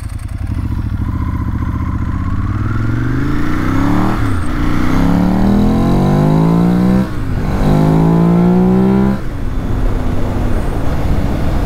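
A 2006 Ducati Monster S4RS motorcycle engine revs hard and climbs in pitch through several gear changes, loud and close, with brief dips between shifts and no talking.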